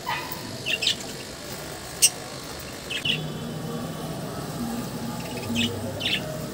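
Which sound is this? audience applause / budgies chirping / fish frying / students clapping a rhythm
budgies chirping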